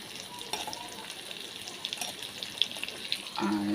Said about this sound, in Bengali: এই যে দেখেন মাছটা ভাজা হচ্ছে।